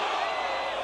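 Golf gallery at the WGC-Dell Match Play reacting to a Tiger Woods putt in his match against Lucas Bjerregaard, a steady broad crowd roar with cheering and whoops, loud and sustained throughout the brief moment.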